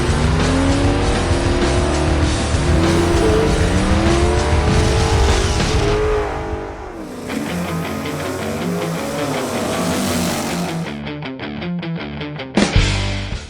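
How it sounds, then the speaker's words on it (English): A Mopar HEMI car at the drag strip revs hard, its loud engine climbing and falling in repeated surges, then rattling through shifts with tire noise, close and dominant throughout. "This, my friends, is what you call a HEMI."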